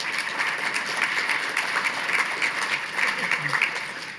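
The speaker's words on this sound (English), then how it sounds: "So give a big round of applause for the PAR staff." A live audience applauds event staff at a PAR Metrics project presentation on loneliness, mobility and quality of life, producing steady, dense clapping that holds at an even level for the whole stretch.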